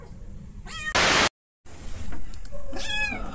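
A rescued street cat meows indoors at home, with two short, clear meows separated by a burst of static and a brief dropout, and quiet room noise in between.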